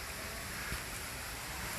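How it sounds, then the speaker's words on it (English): Steady broadband roar of water pouring over an 80-foot-wide, 48-foot-tall man-made waterfall built from Colbert County sandstone, constant and enveloping with no voices. "World's largest man-made natural stone waterfall."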